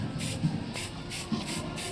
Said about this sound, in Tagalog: dagdagan na natin ng konting spray para medyo mag-darken po siya